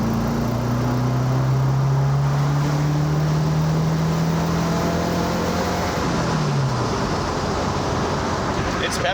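A Subaru-swapped 1976 Porsche 914 pulls away with a steady engine drone that rises in pitch as it accelerates, then shifts and falls back, heard from inside the car under continuous road and wind noise.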